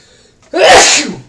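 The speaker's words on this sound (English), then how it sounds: "Oh, I'm about to sneeze." A single loud, close sneeze bursts out after a short quiet breath, then fades.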